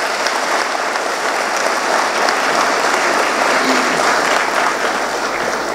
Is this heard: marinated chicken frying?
no